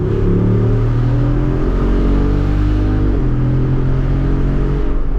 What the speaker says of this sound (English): It also sounds pretty amazing when you stomp on the gas pedal.